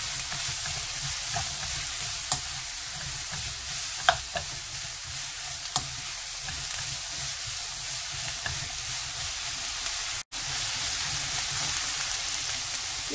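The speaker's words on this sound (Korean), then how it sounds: "여기에 파프리카하고 피망하고 넣어서 다시 한번 볶아줍니다." Paprika and green bell pepper stir-frying in a pan, a steady close sizzle with occasional sharp clicks and scrapes of the utensil stirring the vegetables, continuous and fairly loud.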